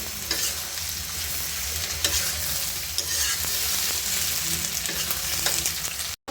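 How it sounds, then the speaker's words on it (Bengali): Vegetable stems fry in a pan with chopped onion, salt and garlic paste, making a strong, continuous close sizzle broken by regular scraping and stirring knocks, without any voices. "দিয়ে ডাটাগুলোর সাথে ভেজে নেব"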